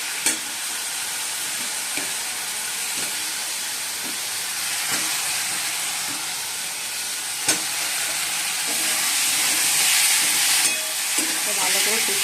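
Potatoes tossed into a pan of spice masala sizzle and fry with a steady, loud hiss, broken by occasional clicks and scrapes of stirring, close up with no talking.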